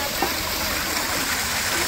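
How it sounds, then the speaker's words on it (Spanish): Natural spring water gushes from a big rock at Cerro Verde, El Salvador, a steady broadband rush of falling, splashing water that holds evenly throughout, close and moderately loud. "Y miren el chorro, qué rico sale de ahí, del mero paderón"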